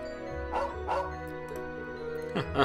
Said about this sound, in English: the puppy! Woof, woof, woof, woof!